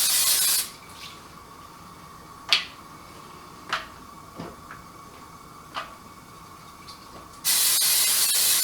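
Cooking spray hisses onto Mission Street Taco yellow corn tortillas in two steady bursts, one at the start and one at the end, with quiet ticks and light clicks between them.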